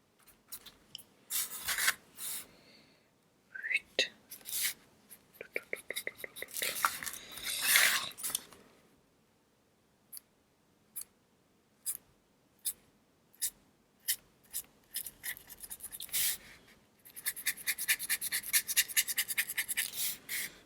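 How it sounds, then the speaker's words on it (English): Paint is scrubbed into a surface with a brush in short, dry scratchy bursts. Some stretches are dense and others are single spaced strokes, all quiet and close. "I'm pretty much just scrubbing the paint in."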